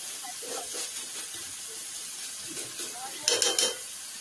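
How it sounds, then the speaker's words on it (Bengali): Chicken frying in a pan with Kashmiri chilli powder and red chilli sauce, a steady soft sizzle and hiss with occasional stirring scrapes, rising into a louder burst of crackle near the end. "ভালো করে চিকেনটা ভেজে নেব"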